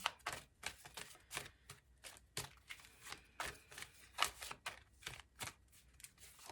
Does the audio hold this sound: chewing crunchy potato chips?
no